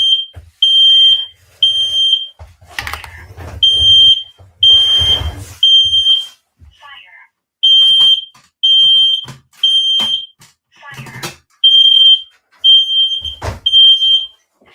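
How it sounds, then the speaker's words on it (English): A home smoke alarm blares in loud, repeated high-pitched beeps in regular bursts, pausing briefly between groups, with scattered thumps and rustling in the room and no talking. "my fire alarm just went off"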